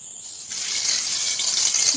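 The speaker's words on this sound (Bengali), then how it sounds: "মাখানো হয়ে গেলে এবার এটা তেলে ভেজে নেব।" Hiss of frying begins abruptly as an egg mixture is dropped into hot oil, then holds as a steady, close, bubbling sizzle with no voices.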